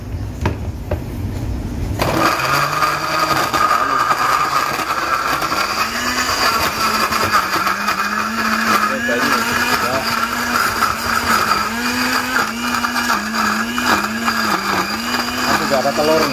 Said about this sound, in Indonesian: Saatnya kita blender bumbunya ini,